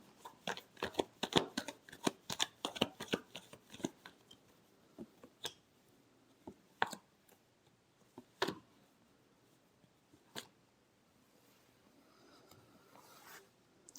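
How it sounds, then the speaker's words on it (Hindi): Tarot cards are shuffled by hand in a quick burst of crisp riffling snaps for about four seconds, followed by sparser taps and slides of the deck, close and fairly quiet with no talk. "Last shuffle."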